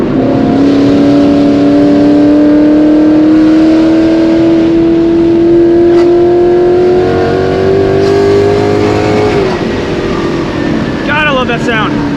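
A full-bolt-on S550 Mustang running E85 accelerates hard while being daily driven, the engine note rising loud and close in a long sweep before easing off and shifting.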